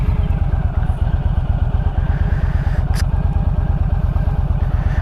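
A Yamaha Stryker motorcycle's V-twin engine idles close by after starting, with a loud, throbbing, evenly pulsing rumble that holds steady throughout.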